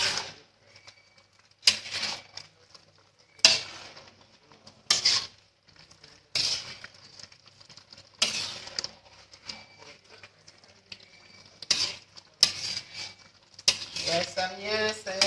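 A metal spoon scrapes and clanks against a pot of boiling dog meat rica rica as it is stirred and turned, in repeated bursts separated by short quiet gaps, with a faint hiss underneath.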